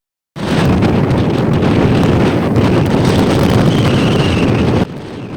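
Strong wind buffets a ship at sea off the Greek island beach of Koukounaries, a loud, dense rushing roar with waves beneath, steady for several seconds before dropping off sharply near the end.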